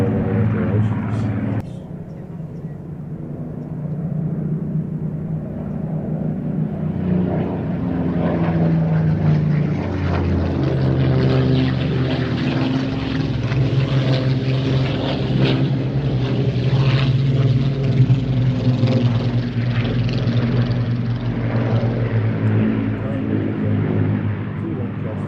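A propeller aircraft drones past, its engine a broad, steady roar that swells and lingers, with people talking over it nearby.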